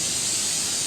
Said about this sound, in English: for the chicken, we're just going to take a little bit of pan spray.